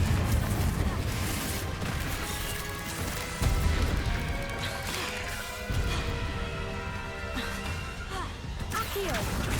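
Confringo blasting curses cast in the wizard combat game Hogwarts Legacy, giving repeated sharp crashing bursts and booms amid busy battle noise, with a voice calling out over the fighting.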